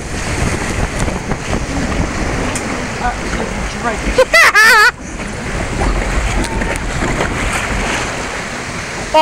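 Water spraying down on riders of a flume ride, a loud rushing hiss of splashing water and wind, with excited voices shouting and a short high squeal partway through.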